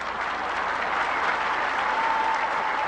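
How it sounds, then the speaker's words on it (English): A tennis crowd at the 1975 Australian Open applauds warmly, steady dense clapping from a large audience that continues evenly throughout. "But there's a very friendly hand for Jimmy."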